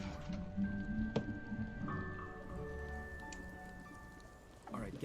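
Soft, steady rain falls in the video game Nancy Drew: Midnight in Salem, a faint hiss with occasional drips and a few brief tones over it.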